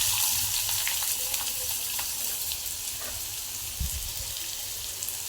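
Onion and curry leaves fry in hot oil, giving a steady, close sizzling hiss with small crackles and pops and a few soft clinks, and no talk.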